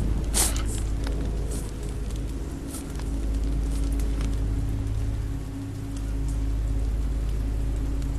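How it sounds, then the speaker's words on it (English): Steady rain pours down in a dark outdoor scene, a loud continuous hiss of drops on surfaces with a few sharper splashes and a low rumble underneath, no voices. "This rain will turn to sleet."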